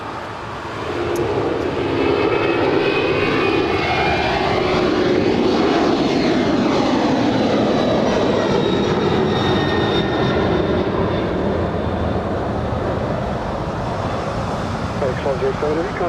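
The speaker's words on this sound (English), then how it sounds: "That was the FedEx Airbus A300" FedEx Airbus A300 departing LAX at night, a loud, steady jet roar with a sweeping, phasing whine as it passes, holding strong for most of the span, with faint voices underneath.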